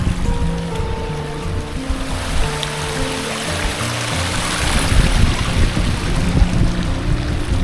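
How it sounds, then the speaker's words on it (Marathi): Water from a mountain stream rushes and gurgles in a broad, constant wash beside a road during heavy rain, fairly loud and near, with no voices. "हे बघा मस्त पाणी वाहत आहे"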